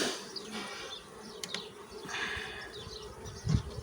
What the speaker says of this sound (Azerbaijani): axırıncı çərçivədə arı ilə dolu